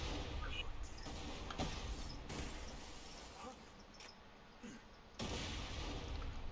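Rocket launcher fire in Borderlands 2, heard as a series of loud sharp blasts and explosive bursts over steady gunfight noise, with someone talking between the shots.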